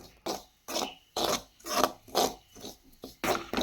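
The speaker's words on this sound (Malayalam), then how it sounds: "റവ ഏകദേശം ഒരു റോസ്റ്റ് ആയിക്കൊണ്ടിരിക്കുന്നു ഒരു ശകല ഗോൾഡൻ കളർ ആകുന്നവരെ നമ്മൾ ഇതിങ്ങനെ ഇളക്കി ഉണക്കി മറ്റേ റോസ്റ്റ് ചെയ്തെടുക്കണം" Unroasted semolina (rava) is stirred in a pan while it dry-roasts toward golden, giving about seven close, rhythmic rasping strokes with short pauses between them.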